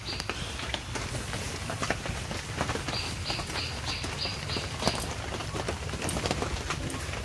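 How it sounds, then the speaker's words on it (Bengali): Rain falls steadily, a dense hiss with scattered louder drops pattering on a surface nearby. "আর এইখানে বৃষ্টি পড়ছে"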